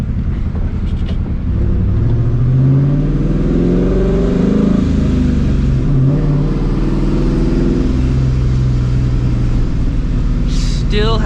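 A powerful turbocharged Scion FR-S engine roars steadily nearby, revving up and easing off in waves, with a whining turbo tone riding over the deep rumble.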